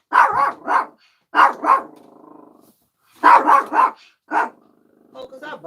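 A dog barks loudly and close by in quick clusters of two or three sharp woofs, with a drawn-out whine or growl between bursts and short pauses of silence.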